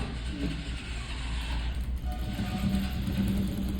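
Sewing machine stitching blouse fabric, a steady low mechanical whir with faint ratcheting clicks running continuously throughout, fairly quiet and close, no voices.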